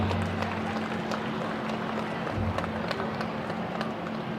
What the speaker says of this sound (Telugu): మరొకసారి గట్టిగా చప్పట్లు కొట్టాలి.